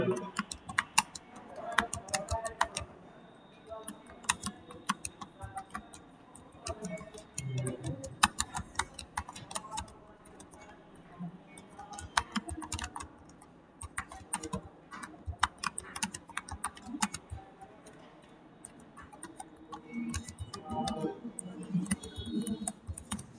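Typing on a computer keyboard for a mail merge, with dense, fast clicking that runs in bursts and short pauses across the whole stretch, close by, with faint talk now and then.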